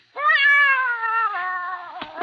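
A cat gives one long, loud, drawn-out meow with a clear harmonic tone that slowly falls in pitch, close and alone with no talking.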